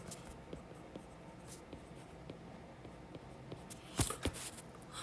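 Marker or chalk writing on a board during an English grammar lesson, faint steady scratchy strokes in a quiet room, ending in a short burst of louder taps and squeaks.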